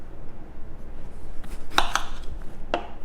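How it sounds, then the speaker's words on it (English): A knife slices a lime in half on a cutting board for a daiquiri, heard as a couple of sharp close chops against a quiet background, with no talking. "Squeeze your own lime juice, take a lime, knife, cut it in half along this way."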